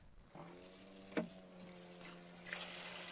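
Water runs from the outlet of a prototype solar water heater, a faint steady trickle with a low hum under it throughout, plus a couple of brief clunks.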